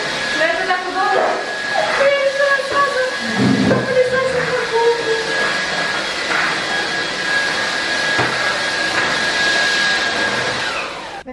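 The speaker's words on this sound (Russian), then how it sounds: "решила попылесосить всю кухню" A vacuum cleaner runs steadily while cleaning a kitchen floor, a continuous loud whirring drone with shifting pitch as it moves, with people talking over it throughout.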